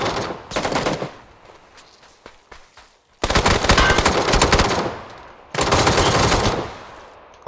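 Automatic gunfire in PlayerUnknown's Battlegrounds rattles in three bursts, a short one first and then two longer sustained volleys, loud and close with brief quieter gaps between.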